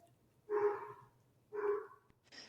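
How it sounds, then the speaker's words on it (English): A dog barks twice in the background at something at the front door, two distinct muffled barks about a second apart, fairly faint, with a short higher sound at the end. "for those of you listening, you might hear the dog in the background"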